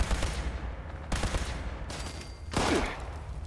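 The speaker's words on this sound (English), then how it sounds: "there's a Bunch of people shooting at me." Gunfire from a group of shooters in the Fallout video game, with several sharp bursts of overlapping shots in quick succession and a louder burst near the end, close and harsh.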